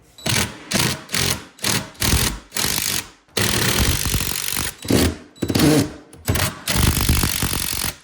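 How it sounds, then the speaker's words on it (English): A power drill with a hex bit whirs in repeated short bursts, each pulse starting and stopping, followed by longer sustained runs as hex screws are driven. "I need that sort of drill bit that I can chuck up in my drill"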